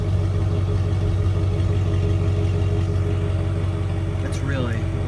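V8 engine of a 2001 GMC Sierra pickup truck idling with a steady low rumble, close and constant, with a faint high chirp near the end.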